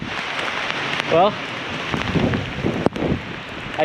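Heavy rain pours down during a rainstorm outdoors, a dense continuous hiss with wind buffeting the microphone, plus a brief chirp and a sharp knock.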